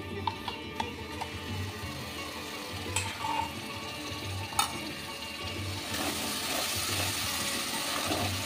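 Whisked sour yogurt stir-fried in a pan over a very low gas flame, giving a steady soft sizzle with scraping stirs and a few sharp clicks from the spoon, growing brighter and denser toward the end.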